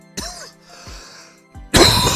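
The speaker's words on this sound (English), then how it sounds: "Can't start a morning without a little cough into your ear" Three short coughs from a person close to the microphone, spaced apart over a quiet background, followed by a sudden loud burst of broadband noise at the end.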